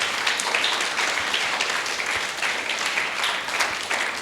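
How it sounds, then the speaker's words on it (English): Sustained applause from an audience at a motivational speaking event, dense steady clapping filling the whole stretch at an even level with no talk over it. "a big round of applause"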